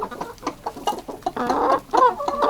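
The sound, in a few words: Kuban hens clucking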